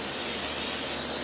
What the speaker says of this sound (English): So this is an accelerator for the super glue. I'm just going to spray a little bit of it on the bottom of my board